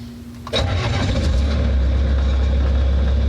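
A skid steer's diesel engine cranks briefly and catches, then settles into a loud, steady low idle close by.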